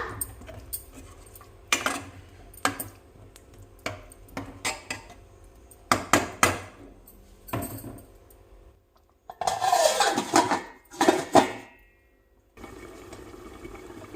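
Spoon stirring and mixing paneer curry in a cooking pan, with repeated clinks and scrapes of metal against the pan in irregular bursts, close by and moderately loud, with no talking.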